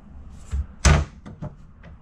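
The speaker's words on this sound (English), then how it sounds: "Soft closed drawers." Soft-close drawers shut in the kitchen of a KZ Durango Gold G383RLQ RV, a few muted wooden thumps with one louder close near the middle, heard up close and alone.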